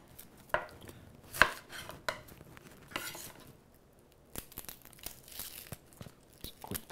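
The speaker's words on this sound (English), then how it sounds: "Just quick dice on the red onion." A knife dices a red onion on a cutting board, giving sharp, irregular chopping taps in quick bursts with quiet pauses between them, close and fairly clear, with no talking.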